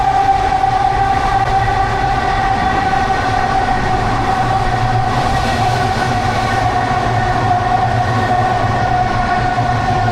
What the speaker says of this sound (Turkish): Şu an tren geliyor.